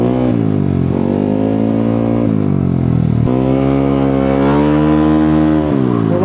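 A Yamaha Aerox scooter engine drones loudly and steadily while riding, its pitch sliding up and down with the throttle over several seconds, alone with no voices.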